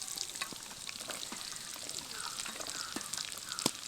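Chopped ginger and garlic fry in a pan with a soft, steady sizzle, light crackling and a few faint spatula scrapes, ending in one sharper pop.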